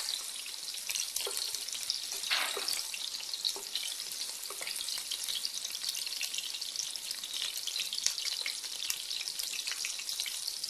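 Carrots sizzle in hot frying oil for a sausage sauce, a steady bright crackle running throughout with a few louder pops and scrapes, close and alone with no voices.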